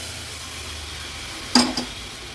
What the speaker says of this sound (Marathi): गॅसची फ्लेम हाय करते आणि फोडणीला हे वरण घालते.